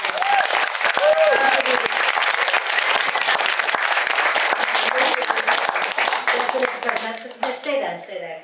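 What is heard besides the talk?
audience applause for someone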